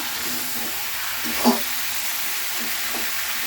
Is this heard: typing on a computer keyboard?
no